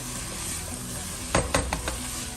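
Restaurant-style chicken and vegetable fried rice with soy sauce is stirred in a pan over a steady sizzle, with a few distinct scraping strokes of the spatula midway before the frying hiss carries on.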